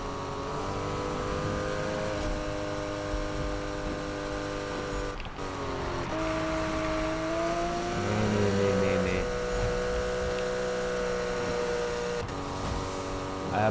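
Porsche 911 Carrera from 1996 racing in Need for Speed, its engine droning steadily with pitch rising and falling through gear changes, loud and continuous under a talking voice.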